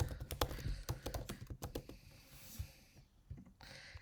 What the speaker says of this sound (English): you're going to type in University for the Creative Arts